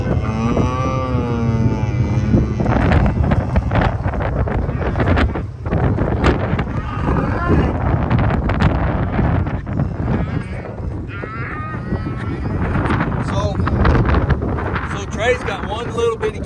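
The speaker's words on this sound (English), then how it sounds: "I know the wind's over here." Strong wind roars and buffets the microphone during a ranch fire in the Canadian River bottom, constant and loud throughout, with cattle and calves mooing and people talking over it.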